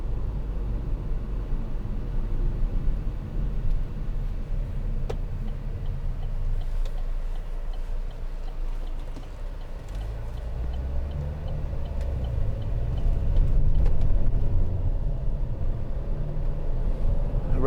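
A 2015 Vauxhall Insignia 2.0 CDTi SE diesel hums along as a low, steady cabin rumble while it slows through a corner and shifts down, the engine note swelling briefly near the end.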